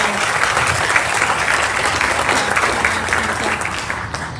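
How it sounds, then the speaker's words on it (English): An audience at a school end-of-year ceremony claps in sustained, dense applause that stays loud and even throughout. "Let's give a round of applause for our pioneers."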